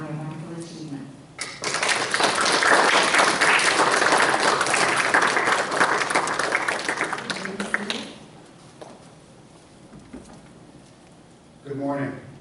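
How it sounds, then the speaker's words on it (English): Applause rises from an auditorium audience at a National Junior Honor Society induction, many hands clapping loudly for several seconds before fading, with a speaker's voice briefly audible before and after. "let us join in applauding them on their wonderful achievement"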